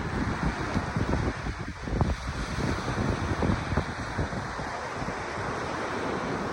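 Wind blows steadily outdoors across the microphone as a Bible is opened, a constant rushing roar with low buffeting gusts, loud and unbroken, no voices.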